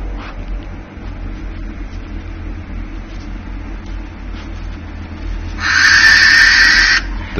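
Masked owl giving a single harsh, hissing screech that cuts in near the end over steady low background rumble.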